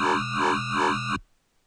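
A synth bassline in Reason runs through a 24 dB low pass filter opened wide, giving a buzzy, wobbling tone that pulses three times and then cuts off into silence.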